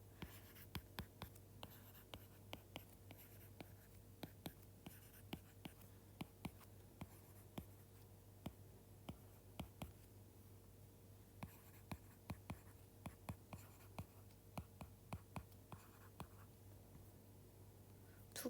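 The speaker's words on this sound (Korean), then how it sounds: "더해본 걸 써볼게요." A pen writes out a math sum by hand on paper, giving faint, close scratching strokes and quick taps in an irregular rhythm against a quiet room hum.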